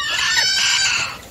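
Free-range village chickens cluck and squawk busily right beside a cheap homemade laying and brooding nest made from old paint buckets, a loud close burst of rapid bird calls.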